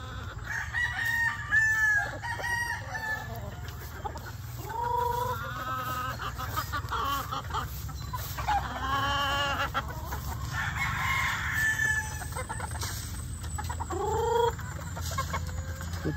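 Chickens and roosters at a poultry farm crow again and again over steady background noise, with several drawn-out crows near and far and softer clucking between them.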